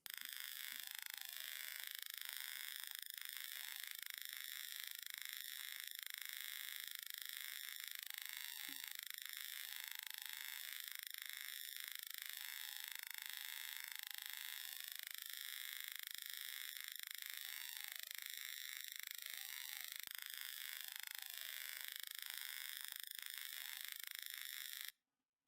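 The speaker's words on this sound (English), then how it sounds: "I'm trying to convert the weird Schumann Resonance chart that popped up yesterday." A Schumann resonance chart is rendered as synthetic sound: a steady, bright electronic drone full of warbling, sweeping whistle-like tones that runs unbroken and alone, then cuts off abruptly at the end.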